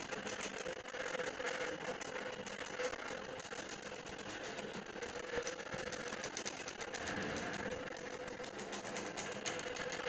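A longarm quilting machine stitches steadily through a quilt pass, a continuous close mechanical hum and rapid needle chatter that holds even throughout, with no pauses.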